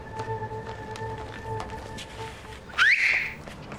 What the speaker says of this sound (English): You have to whistle that loud.